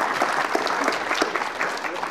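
Short burst of audience applause at a voting and elections summit talk, many hands clapping steadily and fairly close throughout.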